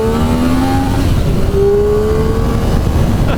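A 2003 Triumph Daytona 955i motorcycle engine howls at high revs while riding, a loud continuous drone whose pitch sweeps up and down through gear changes, with strong wind rush and no voices.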